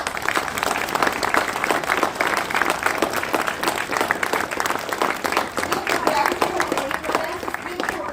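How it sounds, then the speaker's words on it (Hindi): An audience at a school Basant Panchami celebration claps for children after a group song, a dense, steady wash of applause that continues throughout. "ग्रुप सॉन्ग वाले बच्चों के लिए एक बार और जोर से तालियां बजा दी"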